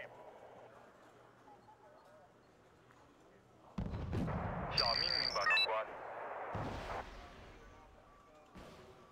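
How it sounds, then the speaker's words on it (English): Mortar firing in a military video game, heard as a sudden loud blast followed by rumbling explosions and a rising whistle, with quieter background rumble before it. "Oh, that's my mortar firing on there."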